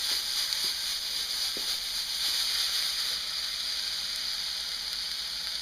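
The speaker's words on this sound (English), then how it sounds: "Saute up the onions." Onions sautéing in a pan, a faint steady hiss of frying with a few soft clicks, quiet and even throughout.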